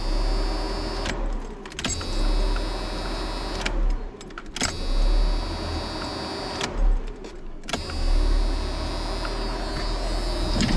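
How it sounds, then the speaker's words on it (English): An electric fuel pump primes on a Ford Capri after fresh gas is added, whirring steadily in several separate runs of a second or two each, broken by short gaps, under a low constant hum with no talking. "Prime the pump real quick."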